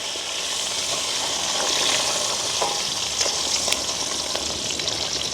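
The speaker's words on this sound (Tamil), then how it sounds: "வேகமாக பொரிஞ்சிடும் உள்ளி எங்களுக்கு" Garlic frying in hot oil, a steady, close crackling sizzle with scattered sharper pops, holding an even level throughout with no voices.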